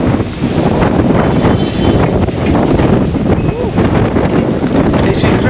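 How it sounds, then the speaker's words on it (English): Strong wind buffets the microphone outdoors while walking in Amsterdam, a loud, constant rumbling roar that fills the whole stretch and swamps everything else. "It's incredibly windy today."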